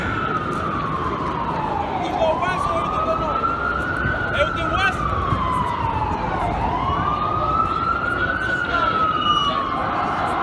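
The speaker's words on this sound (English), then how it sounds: "There's police cars as far as the eye can see." Police car sirens wail up and down in long rising and falling sweeps over a busy Midtown New York street during an NYPD response, loud and continuous with traffic rumble beneath.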